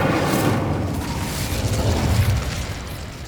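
Fire spell Incendio cast in Hogwarts Legacy on PS5, a dense rumbling fiery burst with crackling booms that roll on for a few seconds, loud and close, no speech.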